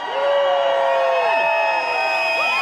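A crowd of about 2,000 protesters at a parliament protest in Wellington cheers and whoops, with sustained shouting and rising and falling cries blending into a loud, continuous roar.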